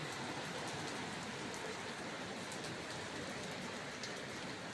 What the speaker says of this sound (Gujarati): કડાકા ભડાકા સાથે વરસાદ ચાલુ થઈ ગયો છે